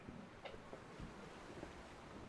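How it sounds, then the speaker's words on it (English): Steady rushing wind with a surf-like roar on a boat at sea in Final Fantasy XIV: Endwalker, continuous and broad, no voices. "A bit windy out here, isn't it?"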